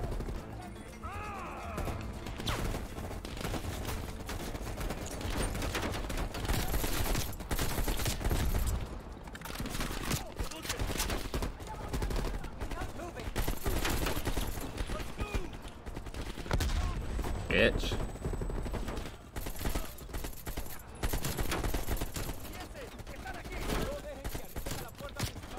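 Gunfire from the video game Call of Duty Cold War, rapid bursts of automatic shots and explosions packed densely through the whole stretch, loud and continuous, with game effects layered in.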